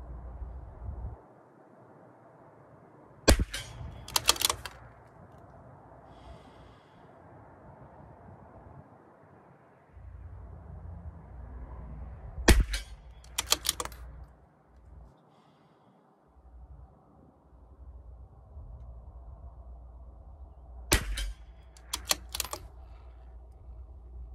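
A CZ 457 rimfire rifle fires Eley Pistol Plus ammunition at a 50-yard range. Three sharp, loud cracks ring out, each followed by a quick echo, spaced about nine seconds apart over a quiet low rumble.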